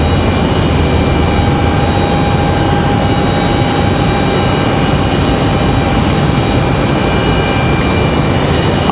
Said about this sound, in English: Frontier 2440 coming in from Denver. That's going to be our next arrival.